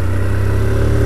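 Honda CG 160 Fan 2022 motorcycle engine running steadily up close, a loud low droning hum with a fast even pulse and no voices.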